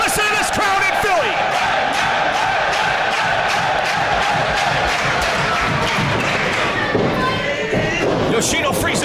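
A wrestling crowd in Philadelphia roars and cheers during a tag-team match, a loud, continuous swell of voices with rhythmic thumps and claps punching through, sustained at full intensity from start to finish.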